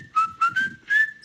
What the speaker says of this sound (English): somebody whistling this melody from Indiana Jones.